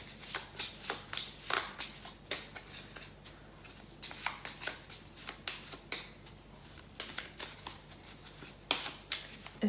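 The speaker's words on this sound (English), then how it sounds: "now that we are done shuffling" Tarot cards being shuffled by hand in a quiet room, a steady run of soft riffling bursts and papery flutters, close and fairly faint, with no talking.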